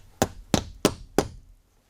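Hammer driving nails into wood in an attic: four sharp, evenly spaced strikes close up, each one a hard thunk, followed by silence.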